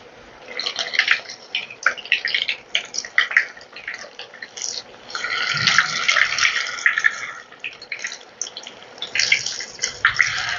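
Flattened-rice medu vadas fry in hot oil over a medium-high flame, giving a steady, close crackling sizzle with bursts that rise and fall throughout.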